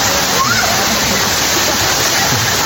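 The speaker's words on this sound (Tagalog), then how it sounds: "Baslag Falls." Batlag Falls pours in a steady, loud rush of falling water that fills the whole moment, with people talking over it.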